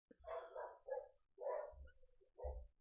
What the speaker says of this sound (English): the dogs are starting to bark now